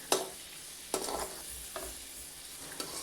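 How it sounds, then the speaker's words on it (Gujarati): Chopped onions sautéing in a pan for dry cabbage Manchurian, a soft sizzle punctuated by a few sharp scraping stirs of a spoon against the pan. "ડુંગળીને પણ આપણે સારી રીતે સાતળી લઈએ"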